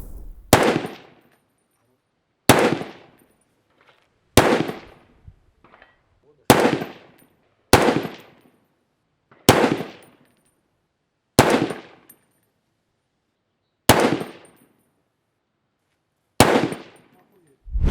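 Loud semi-automatic rifle gunshots from a Heckler & Koch MR308 with 16.5-inch barrel, fired one at a time, about nine sharp cracks spaced a couple of seconds apart, each trailing off in a brief echo.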